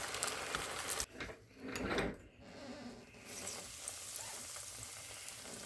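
Pickle balls deep frying in oil that is a little too hot on a new stove give a steady, close, loud crackling sizzle that runs throughout, briefly shifting and swelling as if the food is moved, with no talking.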